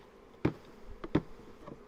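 Honeybees buzz faintly around a hive during a hive check, punctuated by a few soft knocks and taps.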